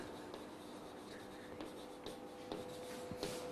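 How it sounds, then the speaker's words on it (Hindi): Pen or marker writing on a board or paper during a biology lesson on plant pollination, a quiet scratching that runs through about three and a half seconds with a few short stroke accents and low room noise. "यहां पर हम लिखते हैं"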